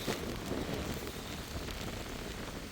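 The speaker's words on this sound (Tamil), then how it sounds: "அதே நேரம் வந்து மழையும் பெஞ்சு கொண்டு இருக்குது" Steady rain falls on a coastal area near a river bridge during a low-pressure storm, a constant dense hiss with wind, filling the whole stretch evenly.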